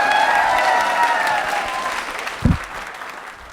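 Loud audience applause at a teachers' training college quiz show, dense clapping filling the room with some cheering voices, fading toward the end after a brief thump.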